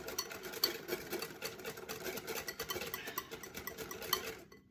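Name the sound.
whisking Yorkshire pudding batter of flour and milk in a bowl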